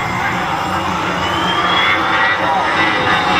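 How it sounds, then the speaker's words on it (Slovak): An Airbus of the interior ministry's flight unit flies past at the SIAF 2021 air show in Slovakia, its jet engines giving a loud, steady roar with a slowly shifting pitch, while an announcer and crowd are faintly audible. "Dámy a páni, letka ministerstva vnútra. Airbus, poďme doprava,"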